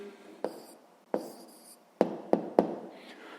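Pen or pencil writing an answer by hand on paper during a sixth-grade maths exercise, a soft scratchy stroke texture with five sharper taps as the pen lifts and sets down, close and fairly quiet.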